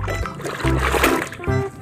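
Water splashing and spattering as muddy toy cars, including a snow bulldozer, are washed, coming in several short bursts close by with pauses between them.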